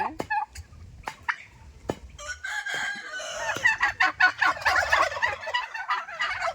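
Turkeys gobble in rapid, warbling bursts with chickens clucking and crowing among them, a busy, noisy flock close by with no talking.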